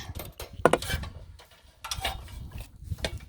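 A propane hose for a 1 pound cylinder is threaded onto a Gas One portable stove, giving a few quiet, close metallic clicks and scrapes in an otherwise still room.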